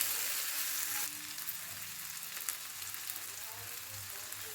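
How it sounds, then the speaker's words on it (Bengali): Tomato and sea fish masala fries steadily in hot oil in a home kitchen, a continuous close hiss and sizzle that eases slightly after the first second, with faint stirring scrapes underneath. "তেলের মধ্যে হালকা ভেজে নিচ্ছি আমি"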